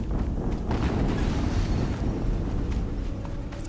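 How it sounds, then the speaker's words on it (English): A deep, rumbling explosion from the Horizon Zero Dawn video game, a loud sustained roar of low-end noise that fills the moment and slowly tapers off, with no talking over it. "Another explosion."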